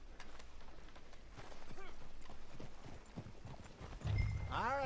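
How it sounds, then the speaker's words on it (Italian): Horses in the Red Dead Redemption 2 video game arrive with steady clip-clopping hooves and several rising whinnies, the loudest neighing close at the end over a low rumble. "E i cavalli che arrivano."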